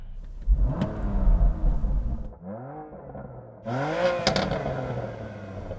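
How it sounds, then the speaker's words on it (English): BMW M2 with a 3-litre twin-turbo inline-six producing 410 horsepower, revving loudly in repeated bursts close by, with brief drops between the rising blips. "got a 3-litre twin turbo inline 6, 410 horsepower and 550 newton meters of torque"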